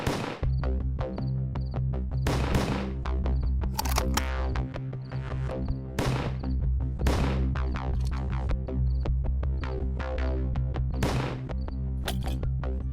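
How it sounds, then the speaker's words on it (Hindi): Sharp, loud bangs crack out in irregular bursts during a police shootout in a telefilm, sharp transients landing every second or two over a steady low hum and musical backing. "पुलिस पे फायर करो।"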